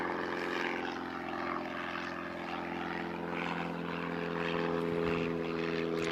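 Aircraft at Christchurch Airport, a steady propeller engine drone with a constant low hum that holds at the same loudness throughout.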